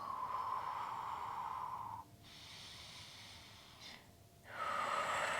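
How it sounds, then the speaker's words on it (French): Deep, slow breathing during a Hatha yoga pose: a long exhale, a pause, then a quieter airy inhale and another strong breath, close and alone without talk. "Je respire profondément."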